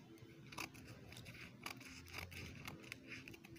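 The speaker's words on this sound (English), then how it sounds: "So I'm going to cut this line out." Scissors snipping through corset fabric, a series of quiet, crisp cuts coming in irregular bursts close to the microphone, with no one talking.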